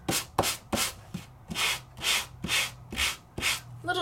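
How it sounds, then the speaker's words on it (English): Paper is scuffed with a sanding tool in quick back-and-forth strokes, about ten loud, close rasping passes with a steady rhythm and no talking. "If you keep sanding and sanding and sanding, well, you're gonna sand it right through the paper."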